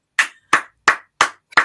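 Five sharp hand claps, evenly spaced and loud, each a crisp broadband burst with a short decay, with silence between them and no talking.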